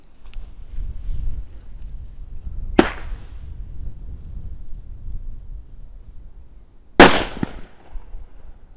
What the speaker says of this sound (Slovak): Ďalej si dáme domácu single shotku, bombkovú.